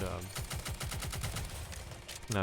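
Admi fires a fast, evenly spaced string of about a dozen gunshots in the mobile game NIKKE, loud and continuous, with a voice briefly at the edges.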